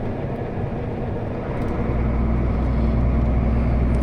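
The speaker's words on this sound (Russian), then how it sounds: "То отпущу педаль газа, то надавлю, подгазую ему." The diesel engine of an Iveco Eurostar truck runs with a low, steady drone, then rises and swells in pitch as the throttle is pressed, close and loud with no talk over it.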